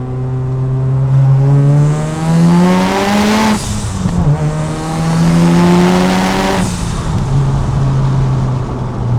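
A 480 BHP Mazda RX-7 accelerating hard in second gear, a loud close rotary engine note climbing in pitch, dropping briefly at a shift and then climbing again.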